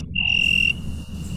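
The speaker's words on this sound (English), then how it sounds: "Crickets." A recorded cricket chirp played back in a classroom listening exercise, one steady high-pitched trill lasting about half a second, fairly loud over room hum.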